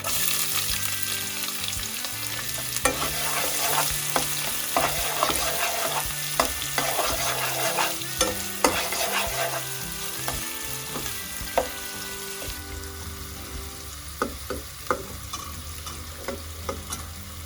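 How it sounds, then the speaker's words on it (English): Finely chopped red onion sweats in a hot pan, giving a continuous close sizzle with frequent scraping and stirring clatters from a utensil, and no voices. "we are not going to brown off our onions, so just sweat them off a little bit"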